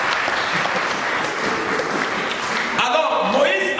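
A church congregation breaks into loud, sustained applause throughout, a dense crackling wall of clapping that swells near the end as voices rise alongside it.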